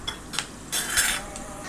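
Peanuts fry in hot oil in a pan for upma, with soft sizzling punctuated by sharp scrapes and clinks of a spoon stirring against the metal, close and quiet, no talking.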